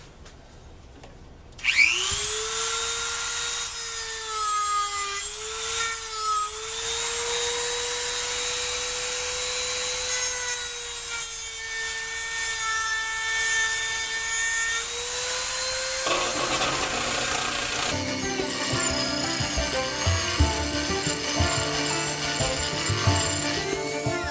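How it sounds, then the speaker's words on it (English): A Dremel rotary tool whines up to a high, steady pitch while polishing a worn bearing race from a treadle grinder, loud and close, with the tone wavering under load before shifting to a rougher grinding texture near the end. "I'm going to go in here with a Dremel tool and see if I can polish that up"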